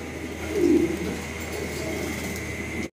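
Black Lahori fancy pigeons cooing, one soft low coo standing out near the start over a steady hum of background noise, close and fairly quiet.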